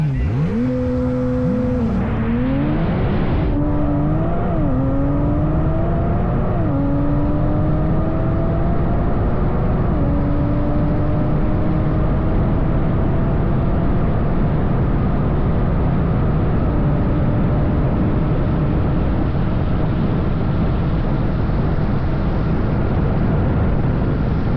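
A lightweight Koenigsegg Jesko Attack hypercar launches hard in a drag race, its engine roaring loud and close as rising gear-change sweeps climb over a steady full-throttle drone that holds to the end.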